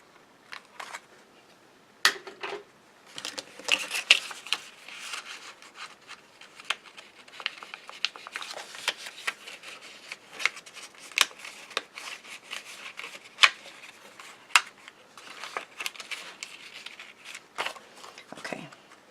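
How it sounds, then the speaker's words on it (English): Scissors trimming card stock for a handmade winter card, a series of short crisp snips and paper rustles in an irregular rhythm, close and moderately loud, with no talk over them. "Maybe I can do it with my scissors, huh?"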